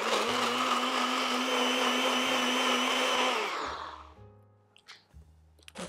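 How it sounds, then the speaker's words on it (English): A blender runs loud and steady for several seconds, puréeing a creamy vegan mushroom stroganoff sauce, then winds down and stops, followed by a few light clinks. "we're just going to blend this up until it's super smooth and creamy"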